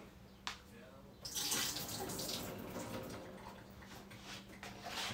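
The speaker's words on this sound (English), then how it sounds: "Should I dump the bean juice in, or should I rinse it off more? I'm gonna rinse it off more." Canned beans are rinsed under a running kitchen tap, a steady close rush of water splashing over them with brief clinks, rather quiet overall.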